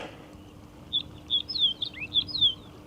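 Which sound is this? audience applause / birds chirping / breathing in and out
birds chirping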